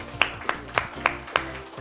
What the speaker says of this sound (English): let's have a round of applause for this Judith P.